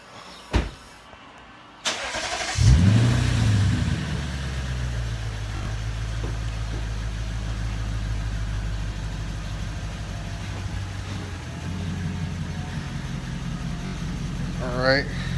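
A Lexus IS F starts up close by, its engine catching with a brief rev, then idles and pulls away under a steady mid-pitched hum that holds and eases off toward the end.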